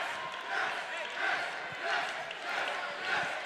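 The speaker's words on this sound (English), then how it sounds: "I believe they are saying it's a yes chant over there" Basketball crowd at a Hope College NCAA Division III first-round game chanting in a steady rhythmic pulse, roughly one swell every half second, loud and close with no clear talk over it.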